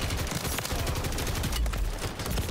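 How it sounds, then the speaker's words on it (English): Sentry guns unleash sustained automatic fire in a Modern Warfare 3 Zombies match, a dense, continuous rattle of rapid shots that stays loud and close throughout with no pauses. "they got sentry guns everywhere"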